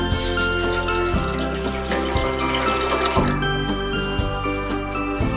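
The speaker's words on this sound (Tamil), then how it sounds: "இப்போ நம்ம கொஞ்சமா தண்ணி ஊற்றலாம்." Water pours into a metal cooking pot in a home kitchen for boiling washed panneer grapes, a continuous splashing stream with ringing, tinkling tones, steady and close with no talk.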